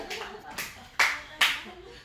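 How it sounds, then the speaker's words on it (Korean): A church congregation clapping hands in a few separate bursts, the last two sharp and loud, with faint voices in the room. "박수해."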